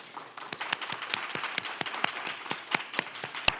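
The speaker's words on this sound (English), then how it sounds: "everyone give a big round of applause" A small group claps in uneven, scattered bursts at a teacher awards ceremony, the applause fairly faint and thin.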